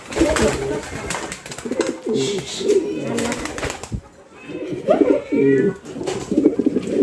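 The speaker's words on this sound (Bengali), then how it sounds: "আপনারা নিজেই দেখতে পাচ্ছেন আমার কবুতরের যে ডাক" Fancy pigeons cooing inside a pigeon farm, repeated low throaty coos in uneven bursts from several birds nearby, with a brief quiet gap midway.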